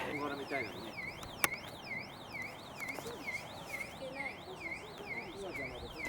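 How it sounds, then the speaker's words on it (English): A car alarm wails continuously near Chureito Pagoda in Japan, its electronic tone sweeping rapidly up and down in a repeating pattern, moderately distant, with faint background noise and an occasional knock. "does the pagoda have a car alarm?"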